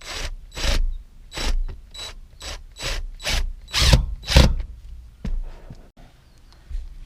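A self-tapping screw is driven into a car amplifier with a ratcheting tool, in a run of about nine evenly spaced, loud mechanical bursts and then quieter clicks near the end, with no talk.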